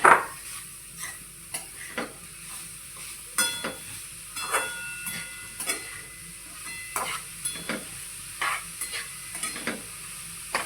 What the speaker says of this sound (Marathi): जरा मंद गॅसवर आपण हलवत राहूया याला